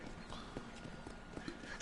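Horse hooves in the video game Red Dead Redemption, a quiet, rhythmic clip-clop of a horse moving at a trot, faint and steady over a soft background.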